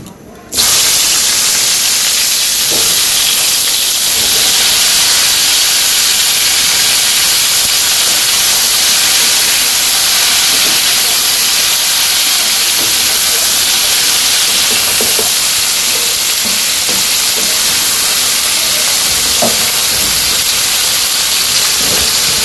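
Vegetables for a village-style fish and cauliflower curry drop into hot oil seasoned with cumin and a torn bay leaf, giving a loud, steady sizzling hiss that holds close and continuous throughout.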